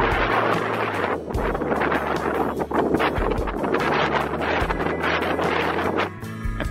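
Strong wind buffets the microphone on the coast at Seal Beach along the Pacific Coast Highway, a loud continuous roar with gusty swells and low rumbling throughout, no voices.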